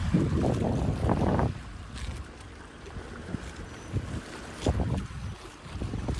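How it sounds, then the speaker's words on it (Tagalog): Gusty wind buffeting the microphone in heavy rumbling bursts, calmer in between, with a faint open-air hiss underneath. "Ang sarap ng hangin."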